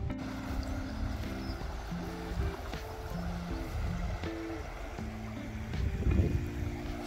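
Fast-flowing canal water rushing through an open lock gate makes a steady, broad wash of sound at close range, with a low background drone and a slight swell near the end.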